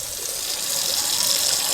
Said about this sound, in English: we've got the same water pressure that we had with the blue filter